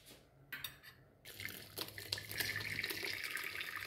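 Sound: straining hot water from curdled milk to drain chhena

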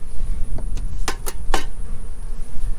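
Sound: honeybees buzzing around a hive

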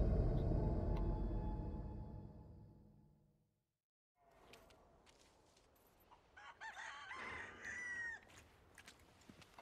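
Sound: chicken clucking in video game Resident Evil 4 Remake

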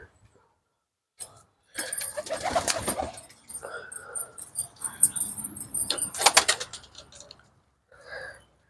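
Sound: pigeons cooing

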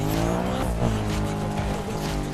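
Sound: BMW car driving and tires squealing in Need for Speed video game

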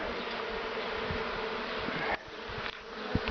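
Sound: bees buzzing around a relocated beehive

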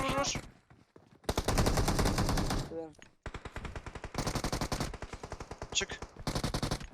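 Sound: gunfire in the video game PUBG Mobile

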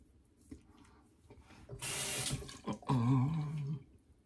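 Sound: cold water running from a tap into a sink

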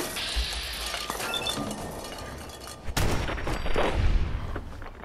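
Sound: gunfire in the video game Fallout 4

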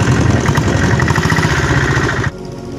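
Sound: motorbike riding up mountain road

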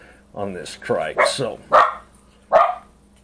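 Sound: dog barking

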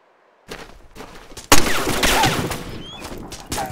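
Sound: machine gun firing in video game ArmA 2

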